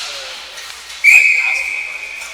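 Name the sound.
referee whistle blowing as ball goes out of play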